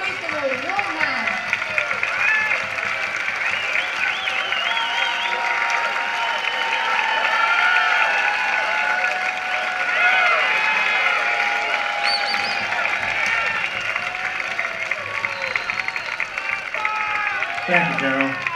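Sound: audience applause

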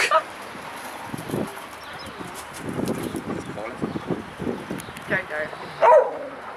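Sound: dog barking

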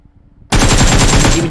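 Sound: gunfire in the video game PUBG Mobile

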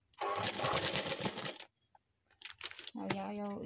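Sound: sewing machine stitching a blouse design

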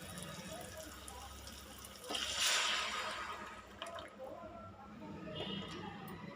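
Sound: tamarind juice being poured into pan for egg curry

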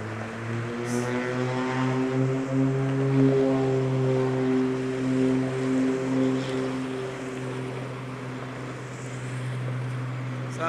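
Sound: propeller aircraft taking off

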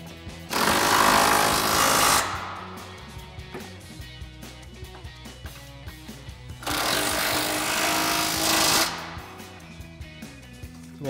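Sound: impact wrench with 21 mm socket tightening Jeep control arm bolts

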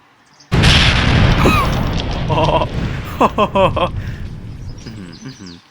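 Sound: gunpowder explosion, video game

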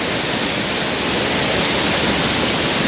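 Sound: flowing river water in Konkan rain

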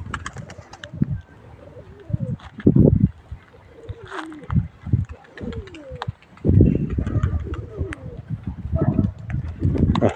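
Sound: flying bird calls

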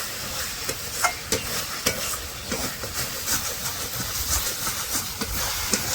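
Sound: stirring and frying chicken curry masala

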